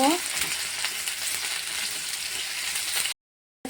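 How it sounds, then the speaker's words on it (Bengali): Potatoes fry in a pan, a close continuous sizzle with faint stirring, running evenly before cutting abruptly to silence, then resuming briefly. "আলুটাকে লাল লাল করে আগে ভেজে নেব।"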